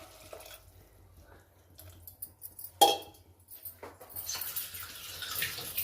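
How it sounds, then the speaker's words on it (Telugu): Quiet clinks of a utensil against a pot, then water pouring in and swirling as it is stirred, close by, while making cabbage masala curry. "నీళ్ళు వేసుకొని బాగా ఇలా కలిగి పెట్టుకోవాలి"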